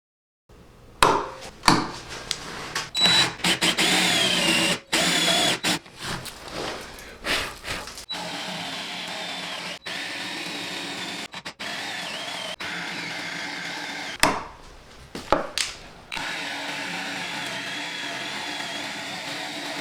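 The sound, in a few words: drilling 1-inch holes in wooden tree staves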